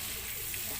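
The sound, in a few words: potatoes frying in a pan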